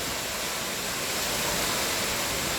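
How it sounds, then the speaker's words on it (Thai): Steady broadband rush of the small Saphan Noi waterfall in Mae Sariang, a continuous water roar heard alone from a forest walking path, even in level throughout. "ก็เป็นน้ำตก"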